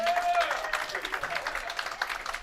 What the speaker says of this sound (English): How about a round of applause for Erin Saprinsky and her second place finish here in Lincoln